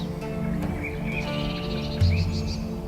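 A bird chirps and sings in short bright phrases over a steady low hum, the calls coming in brief bursts close by.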